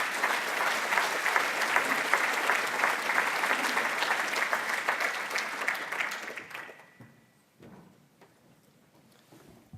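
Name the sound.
audience applause welcoming the keynote speaker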